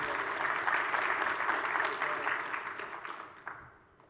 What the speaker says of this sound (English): I hope you give him a round of applause.